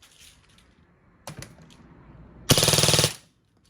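E&C 642 S4 airsoft rifle fired in full auto, a short single shot followed by a rapid, loud burst of evenly spaced shots lasting about half a second, close and with no talking.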